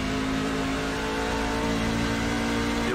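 Simulated NASCAR trucks race around Iowa in iRacing with a dense, continuous engine roar at sustained high revs, loud and close, layered with a whirring drone and no pauses.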